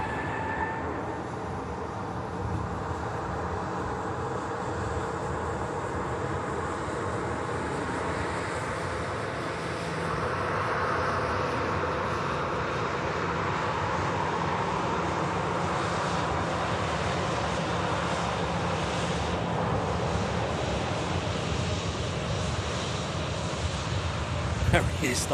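An airliner lands at Manchester Airport, its engines a sustained broad roar that swells partway through and holds steady, heard from a distance with voices talking over it.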